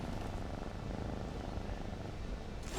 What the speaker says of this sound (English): Don't know if you can hear it, but he purrs.